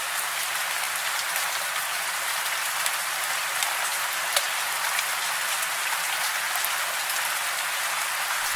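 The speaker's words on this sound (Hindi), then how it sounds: "बारिश रुकने का नाम ही नहीं ले रही है।" Steady rain falls without a break, a dense hiss of drops drumming on surfaces, with scattered sharper patters standing out; no voices.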